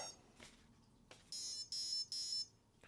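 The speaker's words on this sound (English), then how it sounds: "3 beeps to tell me it's on the 3S." Three short electronic beeps from an RC crawler's 80A brushless ESC set for a 3S battery sound in quick, even succession, preceded by a couple of faint clicks in an otherwise quiet setting.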